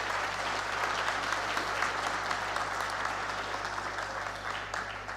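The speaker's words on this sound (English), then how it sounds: "I think she deserves another very loud round of applause." An audience at a high-level board meeting on ending tuberculosis gives a long, loud round of applause, dense and continuous before slowly thinning toward the end.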